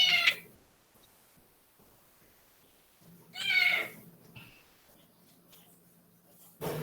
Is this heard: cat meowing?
yes